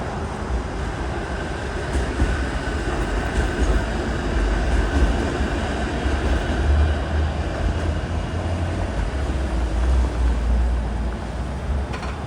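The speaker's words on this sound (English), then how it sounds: "Here's a 505 tram going down Carlton Street." A 505 streetcar rolls along Carlton Street in Toronto, giving a steady loud rumble and low rail drone that holds throughout, with no talking.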